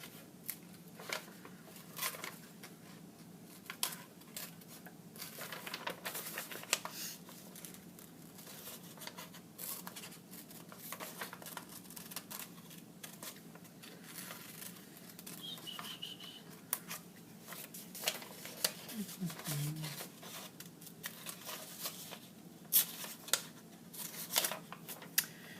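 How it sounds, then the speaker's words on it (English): Scissors cut out hand-drawn paper characters, with quiet, close snips and paper rustles coming in an irregular rhythm with short pauses throughout. "All drawn, and we just have to cut them out."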